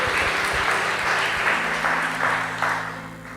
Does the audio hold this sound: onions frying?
no